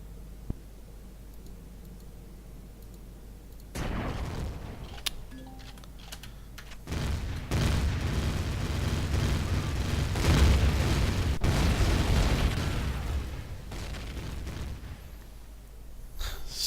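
An artillery turret fires in Empyrion Galactic Survival with heavy booming blasts that swell into a long rumbling roar, and sharp keyboard clicks are heard throughout.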